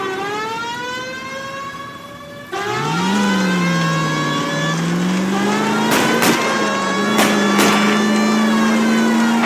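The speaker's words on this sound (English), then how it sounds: "That's Kelso's car" A car chase in the video game L.A. Noire: a loud engine revs and climbs steadily under a wailing police siren, with a sharp rise partway through and a few short bursts near the end.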